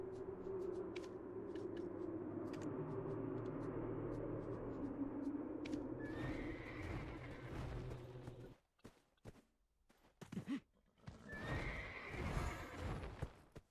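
A horse in an online role-playing game whinnies and its hooves clip-clop steadily, loud and close, followed by a few sharp game effect sounds near the end, with no talking.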